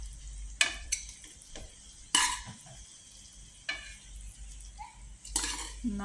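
Cooked rice is stirred into a mint mixture in a pan, with intermittent scraping and clinking of a spoon on metal over a soft, quiet sizzle.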